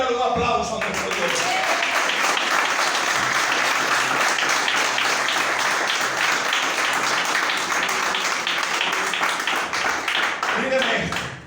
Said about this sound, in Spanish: bríndale un aplauso a nuestro Dios